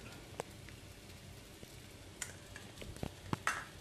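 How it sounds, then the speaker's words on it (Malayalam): Squid thoran with a little pepper powder being stirred in a pan for a Kerala-style dish, soft scraping and a few sharp clicks of the spoon against the pan over a faint sizzle, with the clicks gathering near the end. "ഇതൊന്ന് ഇളക്കി കൊടുക്കാം"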